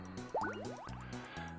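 Water in The Legendary Starfy video game, a short burst of bubbly, dripping splash effects over game music.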